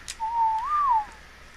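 A single rising-and-falling whistle, the passive command in the video game ARK: Survival Evolved, sounds clearly for about a second against a quiet background.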